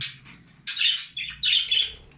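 Pet budgerigars at home chirp in short, bright bursts of several rapid tweets close by, with brief pauses between the calls and no talking.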